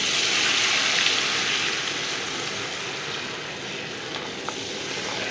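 Cornflour halwa mixture hissing and sizzling steadily in hot oil, a loud, continuous broadband crackle that holds evenly throughout with no voices.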